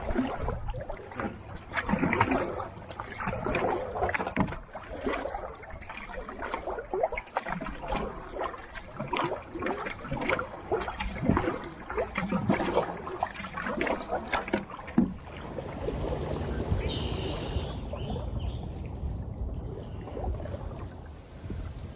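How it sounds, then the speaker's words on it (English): Steady paddle strokes dip and pull through water in a quick regular rhythm of two strokes per second, close by, with wind brushing the microphone and faint lapping around a small Hornbeck canoe. "cadence. 2 paddles every second. The boat really glides kind of nice."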